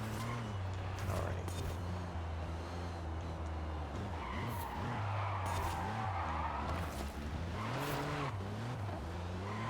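Forza racing game car spinning its wheels through third gear: a sustained engine drone with rising and falling pitch and repeated tire squeals and skids, steady and fairly quiet, with a voice heard at times.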